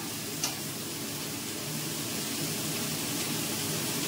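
Food fries in a pan with a steady, fairly quiet sizzle while being stirred, faint scraping and a small clink near the start, continuous and without speech throughout.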